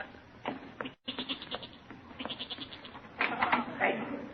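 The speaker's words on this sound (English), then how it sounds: "That goat. I heard him in our cellar." A goat bleats from down in a cellar, several short wavering cries spread across a few seconds, heard at moderate distance.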